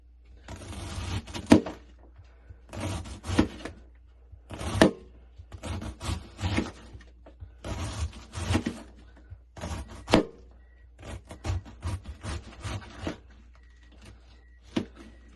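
Knife slicing through cabbage for sauerkraut, a series of crisp crunchy cuts in short bursts with brief pauses between strokes, close and moderately loud, no talking.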